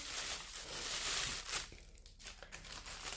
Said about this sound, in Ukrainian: І ось так цей пакетик так злегка зав'язали.